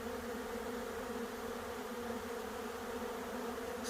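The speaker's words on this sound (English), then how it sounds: "as you can see the swarm." A honeybee swarm buzzes in a steady, even drone around a tree branch outdoors, constant and moderately loud with no break.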